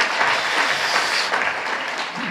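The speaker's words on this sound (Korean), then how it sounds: "사회훈련 간증해 주신 세 분께도 큰 박수로 한번 축복하겠습니다." Congregation applauding together inside a church during a Sunday afternoon service, a steady wash of clapping that holds for a few seconds at an even level.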